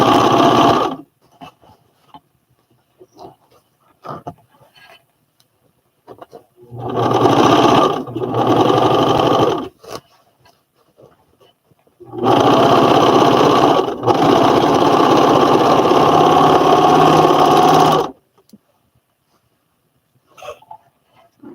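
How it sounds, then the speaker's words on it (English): A serger stitches a seam on a pair of pants, running in three loud, steady bursts with short pauses between them, the longest lasting about six seconds. "Time to serge this seam"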